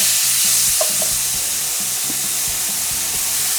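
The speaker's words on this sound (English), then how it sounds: "next we're gonna go in with our onions. I'm using a sweet onion" Sweet onions sizzle steadily in avocado oil in a pan for an étouffée, a continuous bright frying hiss with a few soft stirring knocks underneath, close and even throughout.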